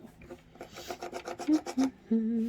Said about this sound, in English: Rub, rub, rub. And this is just an agate burnisher.